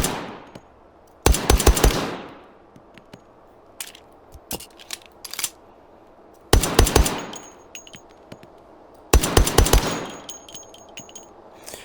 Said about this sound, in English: So if we listen to these casings,